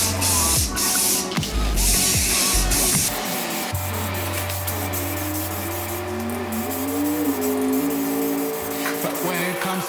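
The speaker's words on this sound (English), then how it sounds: "You give it a good shake, ventilation, make sure I'm not gonna get on anything," A few close bursts of an aerosol primer spray can hiss, then give way to a steady mechanical hum that continues to the end.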